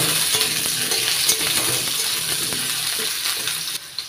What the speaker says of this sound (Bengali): আলুগুলো একটু নাড়াচাড়া করে নিচ্ছি।